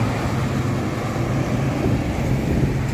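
A truck passes at a roundabout at dawn during a bus-spotting session in Kartasura, giving a steady, fairly loud broadband engine rumble and road roar that holds throughout with no talk.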